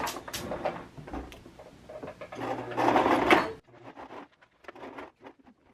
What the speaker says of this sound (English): I'm gonna be sewing these two together.